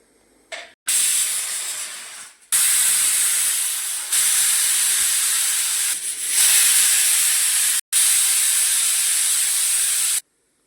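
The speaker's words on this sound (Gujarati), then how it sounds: "જો કુકર મૂકી દીધું ગેસ ઉપર. હવે આપણે 4-5 સીટી મારી દઈશું," A pressure cooker on a gas stove, cooking dried black-eyed peas, vents steam in loud sustained hissing whistle blasts, four long bursts separated by brief silent gaps.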